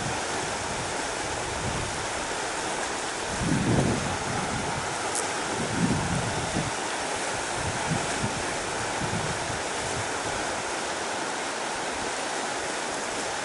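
A river rushes over several large rocks, making a loud, continuous broadband roar close by. The flow surges slightly now and then but never stops, and no voices are heard.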